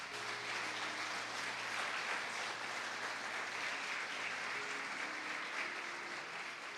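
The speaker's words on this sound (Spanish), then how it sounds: "Denle ese aplauso al Rey." Sustained applause from a church congregation honoring the King during a service on the gift of healings and miracles, dense and even clapping holding steady for several seconds with a low tonal hum underneath.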